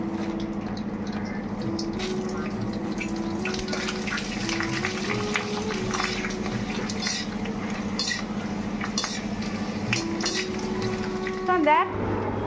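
Food frying in hot oil hisses continuously and evenly at close range, with a low background hum and faint voices behind it.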